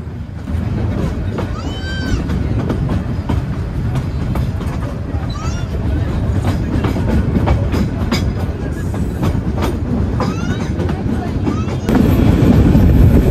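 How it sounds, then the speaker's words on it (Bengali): Pulling out toward Chattogram, the Sagorika Express clatters with a loud, continuous clickety-clack and faint wheel squeals, growing heavier and louder in the final seconds. "আমাদের ট্রেন ছেড়ে যাচ্ছে তার গন্তব্য চট্টগ্রামের উদ্দেশ্যে"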